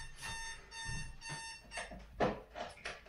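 An alarm clock rings in repeated bursts of beeping, fairly faint and close, with short gaps between the bursts after the snooze button has been pressed several times.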